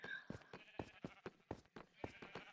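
Minecraft sheep bleat in a quick, steady series of short calls, about ten bleats in under three seconds, fairly faint and close together.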